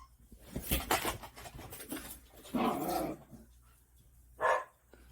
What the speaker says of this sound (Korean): 예쁜이는 그냥 짖습니다